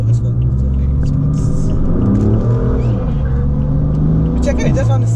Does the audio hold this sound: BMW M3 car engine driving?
yes